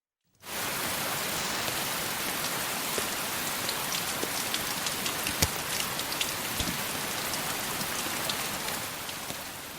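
Steady rain falls outside as a sound effect in a narrated Hindi story, a dense hiss of drops on surfaces that starts abruptly and holds loud and even throughout, with a few sharper drips.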